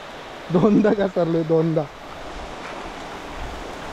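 Heavy monsoon rain falls in Goa on a slippery path to a temple, a steady broadband wash that continues after a short burst of close speech near the start.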